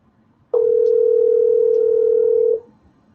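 A single steady electronic tone from a cell phone placing a call, loud and close, holding for about two seconds before cutting off, with no voices over it.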